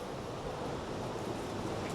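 Strong wind blows across a foggy mountaintop after a storm, a steady broadband roar buffeting the microphone, loud and continuous with no voices.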